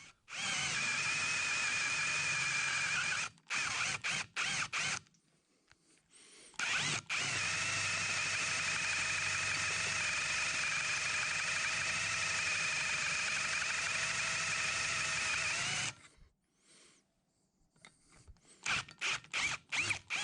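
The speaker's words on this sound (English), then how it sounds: "And then moving up to the larger size drill bit right away." A power drill with a larger bit enlarges a hole in an oil passage of a K&T milling machine saddle: a short run, a pause, then a long steady whirring stretch, ending in a series of quick short bursts.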